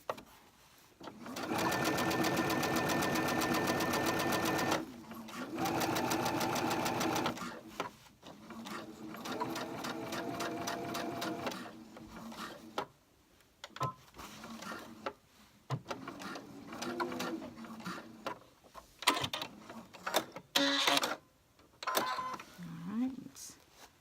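A sewing machine stitches pants alterations in fast, rhythmic bursts of rapid clatter, stopping and starting several times, close and clear, with someone talking between runs.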